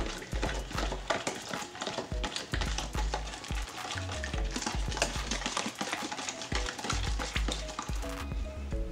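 King oyster mushroom bacon ingredients being stirred and mixed, a busy run of scraping, clattering and sizzling-like sounds close up, steady and loud throughout with no talking.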